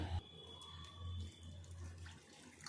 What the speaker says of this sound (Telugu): నీళ్ళు వేసుకొని ఒక 2 సార్లు కడిగి తీసుకోవాలి